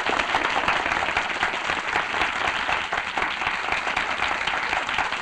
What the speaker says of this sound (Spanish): nuestro lacónico amigo don Serén Santiago, a quien vamos a recibir con un aplauso.